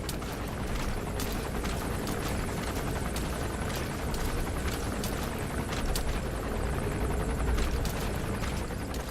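Helicopter patrolling overhead in the video game Metal Gear Solid V, a continuous loud rotor drone with rhythmic chopping pulses, steady and close for the whole stretch with no talk.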